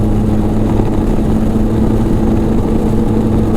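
A 2014 Polaris RZR 800 EPS side-by-side engine drones loud and close at high revs, a steady, buzzing roar held near the rev limiter with no letup.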